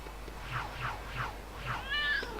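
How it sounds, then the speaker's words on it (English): A cat in the Lego City Undercover video game meows four times in a steady rhythm, each short call gliding downward. A longer, rising meow follows, all close and clear over a faint background hum. "there's a cat in the LC part of the LC airport"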